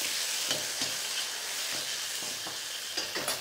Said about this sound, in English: I'm gonna take a little bit of that garlic oil. It's on a low heat here. Start to cook your mushrooms.